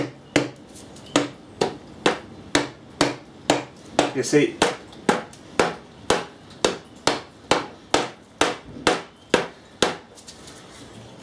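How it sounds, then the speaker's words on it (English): Steady, evenly spaced hard taps of a plastic hammer on a VW Passat gearbox, around two per second, close and loud, with someone briefly speaking midway. "So plastic hammer."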